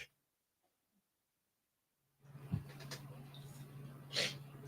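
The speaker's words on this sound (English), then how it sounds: "Excuse me, I had to sneeze." A single sneeze bursts out fairly faintly after near silence, over a low steady hum from an indoor room, with a small snort-like sound shortly before it.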